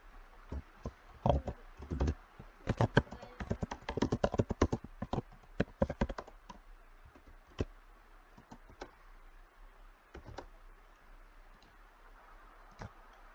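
Keys clatter on a computer keyboard in short quick bursts, a dense flurry of typing followed by sparse single taps and pauses, close and fairly quiet in a still room with no voices.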